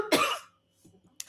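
A single sharp cough bursts out close to the microphone, then falls into a short silence before a faint throat noise and a small second catch.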